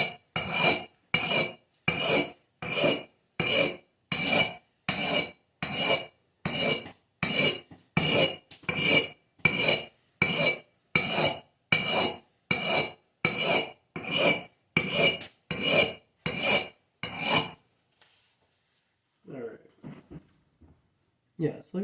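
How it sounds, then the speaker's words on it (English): A rusty axe is sharpened on a sharpening stone, giving a steady run of about twenty loud, close, rhythmic rasping strokes, one roughly every 0.8 seconds. The strokes stop near the end, leaving a few faint scrapes. "I'm getting rust on the sharpening stone"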